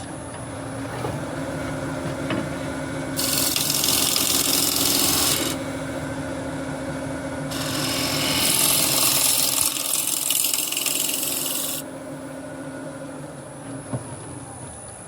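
A turning tool cuts the foot of a beech bowl spinning on a lathe: two loud, hissing cutting passes of a few seconds each rise over the steady hum of the running machine, with no talk.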